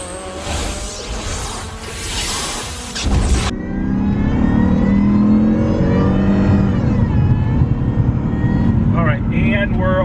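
A supercharged V8 Jaguar on nitrous launches hard, a rushing roar giving way to a loud, rising engine howl that climbs steadily through the revs at close range, with a voice talking over it.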